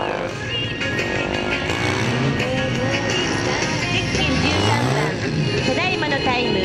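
A modified Honda NSR80 motorcycle's small engine buzzes and revs continuously through a motogymkhana course, pitch rising and falling with turns, under a public-address announcer talking over it.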